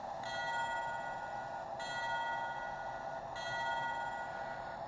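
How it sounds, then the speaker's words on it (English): A Walthers Trainline model train controller plays a bell sound effect, a steady ringing tone with bright harmonics that restrikes about every one and a half seconds, continuous and alone at moderate level. "trigger the bell"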